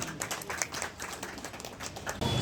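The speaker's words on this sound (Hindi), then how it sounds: "अपने दर्शन भी दीजिए जोरदार तालियों से" Applause from the crowd at a temple gathering at Panchmukhi Hanuman temple, Jammu, steady dense clapping throughout, swelling louder near the end.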